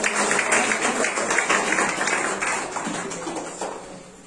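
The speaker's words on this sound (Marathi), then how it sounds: "आपण सर्वांनी आपलं स्वागत जोरात टाळ्या वाजवून" Audience clapping at a Makar Sankranti community program in 2021, a dense, steady wash of many hands that stays loud throughout and slowly tapers toward the end, with no talk over it.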